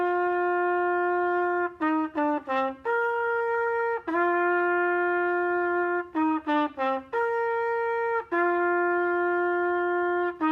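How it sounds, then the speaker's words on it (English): A trumpet plays a bright, close melodic line, mixing quick separated notes with long sustained tones, loud and alone with no talking. "The trumpet sounds like this."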